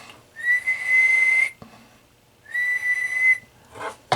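Two long, steady whistled tones, each lasting about a second, separated by a pause, come through a Tram D201A tube radio transceiver's microphone, clear and fairly loud, followed by a short breathy noise.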